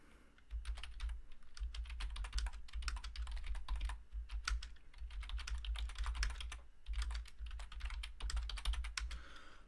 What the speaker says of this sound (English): I'm just typing in the chat.